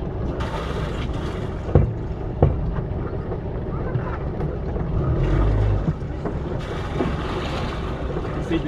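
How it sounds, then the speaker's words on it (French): A boat motor rumbles low and steady outdoors on the Adriatic coast near Trogir, Croatia, buffeted by wind noise, with occasional knocks and clanks nearby. "Je remets le moteur en marche."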